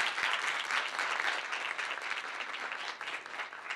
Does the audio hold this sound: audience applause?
yes